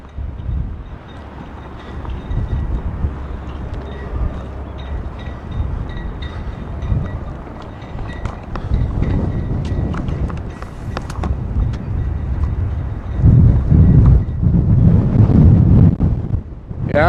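Strong outdoor wind blasts straight onto a handheld microphone, a loud, continuous rumbling buffet that swells and gusts harder toward the end, with no speech over it.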